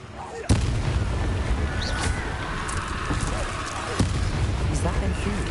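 A Confringo fire spell blast from Hogwarts Legacy lands with a sharp, loud crack near the start, then another at about four seconds. A dense, rumbling battle din with other spell effects fills the gaps between the two blasts.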